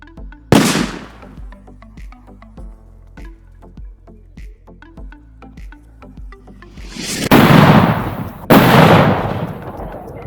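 A paper bomb firecracker goes off with a sharp bang, followed by a long crackling train of pops, then two more loud, close blasts near the end.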